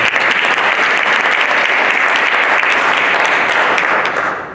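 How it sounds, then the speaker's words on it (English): A town hall audience in Miami-Dade claps loudly and steadily for several seconds, a dense wash of applause that tapers at the very end. "So give her a big round of applause"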